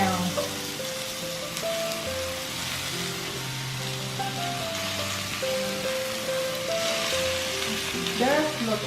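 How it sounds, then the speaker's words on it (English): Black pepper beef sizzling loudly on a hot serving plate, a continuous crackling hiss with sputtering pops, while a person talks over it and music plays softly underneath. "You want to hear that sizzling"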